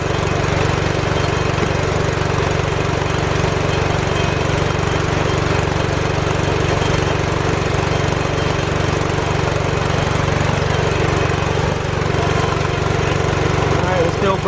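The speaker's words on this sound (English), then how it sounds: "I got my air compressor on." An air compressor runs and builds up pressure during front brake work on a 2010 Dodge Ram 1500 pickup, its motor giving a loud, steady drone throughout while someone talks over it.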